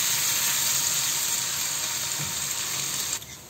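Chopped onions frying in hot oil with bay leaf, cinnamon and cardamom, a steady loud hiss and sizzle from the pan that drops off slightly near the end.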